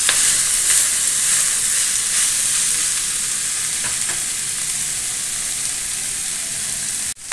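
Litson paksiw pork being stirred in a hot kawali, a steady loud sizzle with faint scraping from the stirring, running without a break until a brief cutoff near the end.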